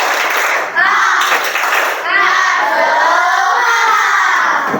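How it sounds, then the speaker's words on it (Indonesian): Groups of schoolchildren in an Islamic religious education class perform a rhythmic spirit clap, dense claps mixed with loud shouting and chanting voices throughout. "Coba semuanya masing-masing kelompok tepuk semangat."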